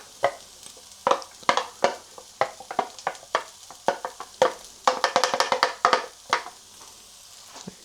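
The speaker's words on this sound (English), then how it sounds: "I think the onion should be alright to go in now. Yeah, you hear a little sizzle." Onions sizzle gently in a frying pan while a utensil scrapes and clacks against it in irregular stirring strokes, close up and without talk.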